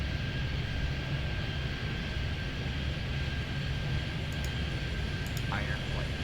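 A small airplane approaches in the Airport Madness 3D airport game set at Miami, a steady low engine drone with a faint whine running throughout, with a few light beeps near the end.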